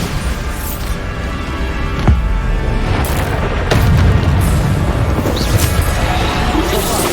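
Hard-mode combat in Hogwarts Legacy's Niam Fitzgerald trial quest, where a Bombarda spell blast lands among loud booms and crashes, with sharp impacts near two and four seconds over a dense, continuous battle din.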